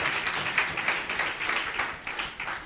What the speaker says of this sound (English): Let's appreciate him with a round of applause